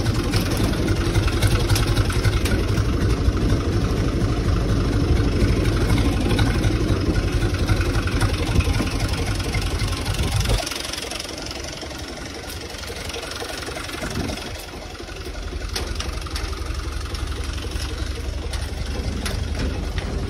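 A tractor's diesel engine idles with a steady low knocking rumble close by, dropping to a quieter, smoother idle about halfway through and then holding there.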